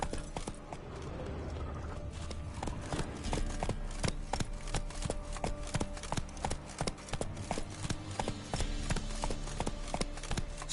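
Horse hooves in The Witcher 3 video game clip-clop in a steady, even rhythm throughout, close and crisp over a low background hum.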